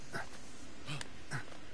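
Cerberus, the three-headed dog creature in Immortals Fenyx Rising, gives three faint, distant barks spaced about half a second apart.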